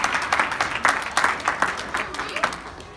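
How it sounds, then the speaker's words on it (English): An audience claps for volunteers at a charity event collecting donations for Puerto Rico. The applause is steady, loud and close, with people talking under the clapping. "A big round of applause for all of you, Jasmine and our friends."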